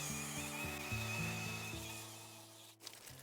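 A chainsaw cuts through a fruit tree during a country garden clearance, its engine drone steady and close before tailing off near the end.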